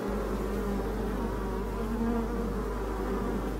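A dense, continuous buzz of many honeybees at a hive entrance, steady and close, with a constant low hum and no voices.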